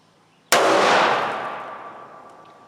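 A single .45 ACP shot with a 230 grain XTP load fires, one sharp loud crack followed by a long fading echo that rings out over about two seconds.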